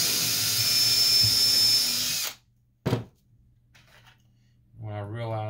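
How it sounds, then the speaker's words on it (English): A 3/16 drill bores alignment holes while scratch-building an RC plane fuselage: a loud, steady high-pitched whine for about two seconds, then a brief sharp burst, quiet handling, and the motor spinning up again at the end. "Take my 3/16 drill and drill some alignment holes."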